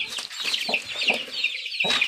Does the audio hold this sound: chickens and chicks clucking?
yes